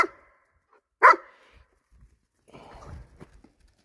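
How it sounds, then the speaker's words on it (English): A dog gives a single sharp bark in a quiet workshop setting, followed by faint shuffling and low rustling noises, with no voices present. "She's a good old dog, fellas."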